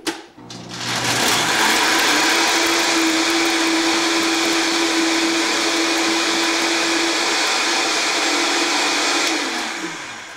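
A countertop blender whirs up and runs steadily at a loud, constant high-pitched drone while blending a raw vegan wild greens smoothie with lamb's quarters, spinning down near the end.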